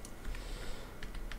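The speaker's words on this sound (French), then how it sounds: "je le fais avec mon clavier" Computer keyboard keys tapped in quick, irregular bursts while retouching a face in Photoshop, close and fairly steady across the moment with no voice.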